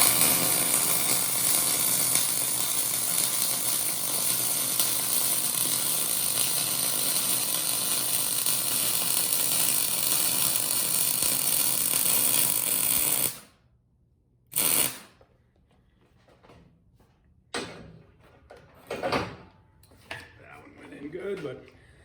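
MIG welding a steel T joint gives a steady, loud crackling hiss that runs unbroken for about thirteen seconds, then cuts off abruptly, followed by quiet clicks and brief bursts of sound.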